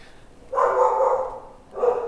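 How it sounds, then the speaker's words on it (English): A dog barks in two bursts, a longer one followed by a shorter one after a brief pause, fairly close and clear with no talking over it. "Even my dog's pissed off"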